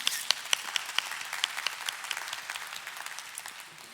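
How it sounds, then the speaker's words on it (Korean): Applause from a church Sunday-school teachers' gathering at an outdoor worship busking event, a steady patter of many hands clapping with sharp individual claps standing out, fading slightly toward the end. "우리 주님께 영광의 박수 올려드립시다"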